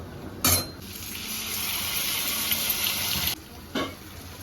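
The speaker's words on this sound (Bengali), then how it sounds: "চলো এখন আলু দিয়ে কষিয়ে নেব" Potatoes dropped into hot oil with ginger, chili, whole cumin, garam masala and tomato, a loud splashy burst followed by a steady sizzle, with a few sharper clatters of stirring.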